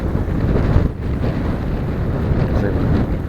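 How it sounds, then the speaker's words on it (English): Strong wind gusting across an open churchyard lined with trees, a loud continuous roar buffeting the microphone with no voices. "It's very windy here."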